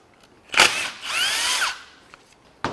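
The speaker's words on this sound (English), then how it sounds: "I'm just gonna start zipping some bolts out." Power tool zipping bolts out of a Dodge Dart's FPT C635 dual dry clutch transmission: two loud, close whirring bursts, a short one then a longer rising-and-falling run, separated by brief pauses with no talk.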